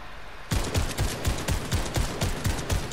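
Rapid gunfire in the Fortnite video game starts after a brief quiet moment, a loud burst of about a dozen evenly spaced shots in quick rhythmic succession, close and continuous to the end.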